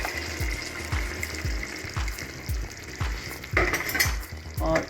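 A spoon stirs kachnar karhi with yogurt in a pan, knocking against the metal in a quick regular rhythm over a wet, bubbling sizzle, close up and with no talking.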